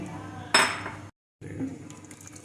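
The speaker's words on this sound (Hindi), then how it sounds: "इसके अंदर आधी गड्डी धनिए की डालेंगे, काट लिया था हमने इसको। ये देखें माशाल्लाह, और इसको भी मिक्स कर लेंगे हम।" Chopped coriander stirred into aloo matar in a metal pot, a loud scraping clatter of spoon on metal, then a sudden silent gap before softer stirring resumes, close by.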